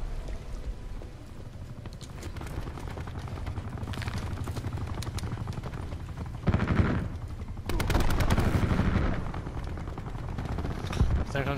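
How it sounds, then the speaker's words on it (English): An enemy attack helicopter drones overhead in Black Ops 4 while rapid gunfire crackles in bursts, loud and continuous, with occasional voices over the action. "Enemy attack chopper above."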